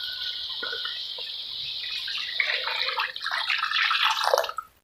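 About one and a half glasses of water are poured into a pot of sautéed potatoes and peas for aloo matar curry, a close splashing pour that swells louder toward the end, then stops abruptly.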